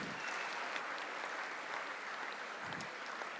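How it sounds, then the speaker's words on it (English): Steady, dense audience applause for a pairs wool pressing final at a shearing competition, a continuous wash of many hands clapping at an even level, heard from a distance in a large venue. "Give them a super round of applause as they go and towel off,"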